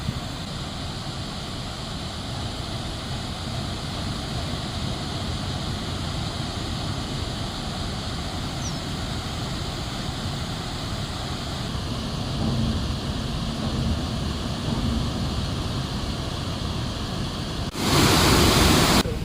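Floodwater from three opened dam gates at Sangambanda pours downstream in a loud, continuous roar that holds steady throughout, with a brief surge of louder rushing near the end.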